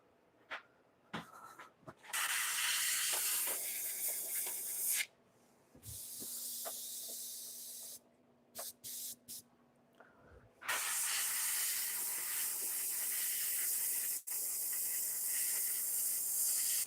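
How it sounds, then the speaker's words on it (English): Spray paint hisses onto paper in long steady bursts of several seconds each, with short quiet gaps and a few faint clicks and rustles between them, close and loud. "that paper is not even taking any spray"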